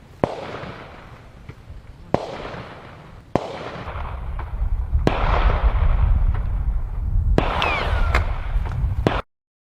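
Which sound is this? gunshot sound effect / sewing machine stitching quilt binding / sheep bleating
gunshot sound effect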